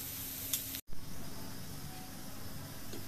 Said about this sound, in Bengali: আলুনিগুলো ভাজা হয়ে গেছে।